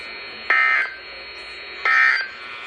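Emergency Alert System attention tones on NOAA Weather Radio for a flash flood warning: two loud, steady electronic beeps, each lasting about a third of a second, spaced roughly a second and a half apart.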